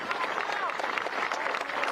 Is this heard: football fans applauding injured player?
yes